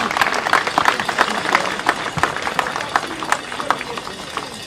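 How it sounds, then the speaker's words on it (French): An audience at a formal political address breaks into applause, a dense patter of clapping hands that stays steady and fairly close for a few seconds. "On applaudit."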